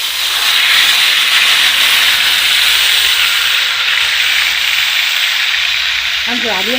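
Chicken pieces hit a preheated high-sided cake tray skin side down and sizzle loudly, a steady, close, intense hiss of frying that holds throughout.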